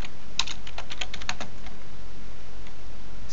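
A short burst of keystrokes on a computer keyboard while an enable password is entered during switch configuration, with a quick run of close, crisp taps and then quiet.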